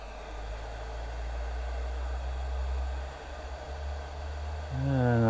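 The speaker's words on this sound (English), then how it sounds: "I'll put the hot air blower on it" A steady electric hot air gun blows with a constant whooshing hum onto a faulty RM Italy BLA350 Plus 300W linear amplifier, joined near the end by a rising tonal whine.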